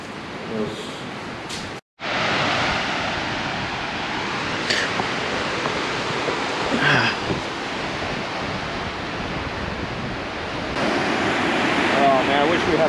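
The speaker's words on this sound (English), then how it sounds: "The docks are getting hit pretty heavy with some waves over there." Waves slap against lakeside docks under gusty wind, a constant rushing wash with wind buffeting the microphone, broken by one abrupt dropout early on.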